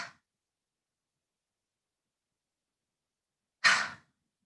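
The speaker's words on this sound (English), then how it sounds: "Continue with that ha breath, forcibly pulling the belly button muscles in. Sometimes this is known as a bellows breath." Two forceful exhalations of Kapalabhati bellows breath during a yoga breathing practice, one clipped at the very start and a stronger burst near the end, separated by silence.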